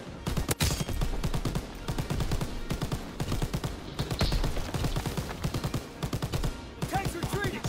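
Machine gun fire rattles in a video game battle, long rapid bursts of close, loud shots with brief pauses between volleys and faint talk mixed in.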